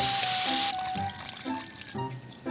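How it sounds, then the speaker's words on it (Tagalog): Water pours into a pot where pork hock has been sizzling in oil, giving a steady rushing, bubbling splash close by. "Maglalagay na tayo ng tubig mga idol."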